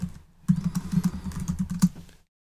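Quick close keystrokes on a computer keyboard rattle along in a steady burst of about a dozen clicks lasting under two seconds, then stop.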